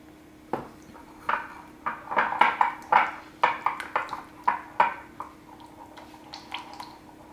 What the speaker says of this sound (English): I'm just going to whisk those two together.